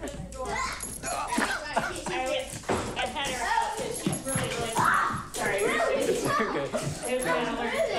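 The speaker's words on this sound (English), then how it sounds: "We're going to let the dogs in." Dogs being let in through a door at home, whimpering and yipping excitedly while several people talk over them throughout.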